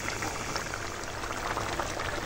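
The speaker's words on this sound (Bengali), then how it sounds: "তো ঝোলটার সঙ্গে মাছটা একটু ফুটিয়ে নেব" A thin curry gravy with bata fish boils in a pot over a village-style cooking fire, giving a close, continuous bubbling and seething hiss with no talking.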